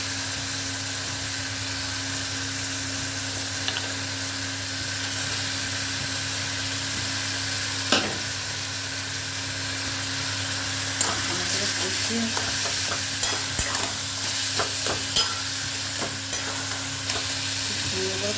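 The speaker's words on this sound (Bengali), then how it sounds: "ভালো করে কষে নেবো মশলাটা।" Minced meat stir-fried into a masala, a steady close sizzle with occasional scraping clicks of a spatula against the pan, growing busier near the end.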